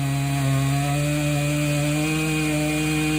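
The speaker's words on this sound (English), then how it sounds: "That's a big chainsaw to cut all the way through that." A big chainsaw cuts through an oak tree during a tree removal, its engine holding a loud, steady buzzing drone close by throughout the short stretch.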